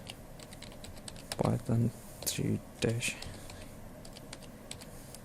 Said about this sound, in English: To install the SciencePy, type the command sudo apt install